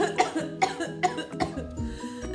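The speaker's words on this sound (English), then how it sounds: "persistent cough" A person coughing repeatedly, a run of harsh close coughs in quick succession with a throaty rasp at the end.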